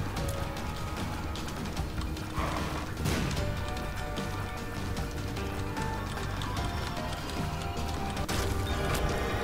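The horseman boss War charges across the room in The Binding of Isaac: Rebirth, a steady galloping clatter and thudding impacts over game music, with sharper crashes near the start, middle and end.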